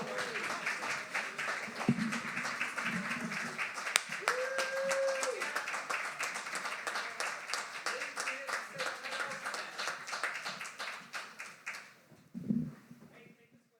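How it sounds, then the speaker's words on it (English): An audience at a poetry slam applauds as a poet is called to the stage, scattered clapping running under ongoing talk and voices, fading away near the end. "Please give a huge round of applause to Anna Barnes."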